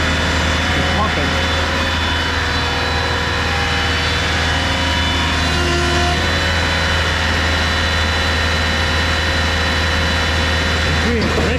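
A Mayco LS450 concrete pump runs dry, a loud, steady, heavy engine drone with a continuous mechanical roar that barely changes over the whole stretch, close to the listener.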